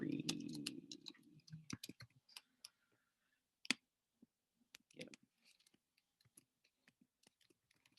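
Quiet, irregular clicks of keys being typed on a computer keyboard, with a brief low murmur at the start and pauses between bursts.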